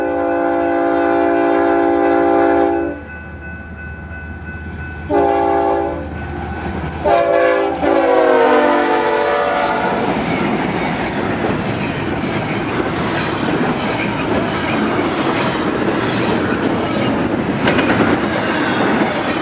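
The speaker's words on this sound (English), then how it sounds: "This ended up being the same eastbound Z train we saw earlier in Cajon Pass." A BNSF eastbound Z freight train passes on the Cajon Subdivision mainline near Newberry Springs, its horn sounding in long loud blasts before the train rumbles by with a steady roar of wheels and cars.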